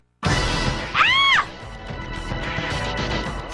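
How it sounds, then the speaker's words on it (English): A girl's scream rings out in a video game, a single loud, wavering cry lasting about half a second over a dense, noisy game soundscape. "Screaming! It came from the bad galley!"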